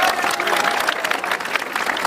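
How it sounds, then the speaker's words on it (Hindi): An audience claps at a public gathering: dense, steady applause from many hands, fairly loud and unbroken for a couple of seconds. "इसका हम जश्न मनाएं तालियों के साथ।"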